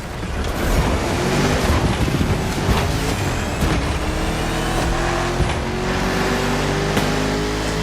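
A 1969 Mustang Boss 429 muscle car in the racing game The Crew Motorfest, its V8 engine roaring loud and close throughout, with rising revs and wind rush and no talk.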